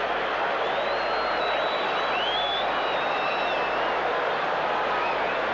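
Dense, steady roar of a large football stadium crowd at a 1986 State of Origin match between South Australia and Victoria, cheering a team goal; continuous broadband noise throughout with a few faint whistles above it.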